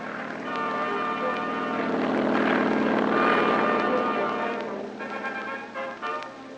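A loud, continuous rotor-and-engine drone of a 1962 Navy carrier anti-submarine helicopter passing overhead, swelling in the middle then easing off, with a faint narrating voice underneath.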